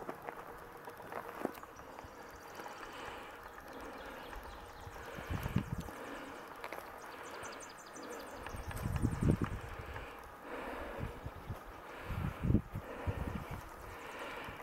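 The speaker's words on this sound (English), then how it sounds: "That's the sound of our breathing." Heavy breathing while hiking the Tilson Loop trail rises and falls in slow, rough gusts close to the microphone, over a steady bed of wind and outdoor rustle.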